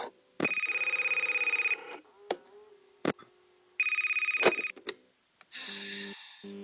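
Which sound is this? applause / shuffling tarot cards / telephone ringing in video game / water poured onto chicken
telephone ringing in video game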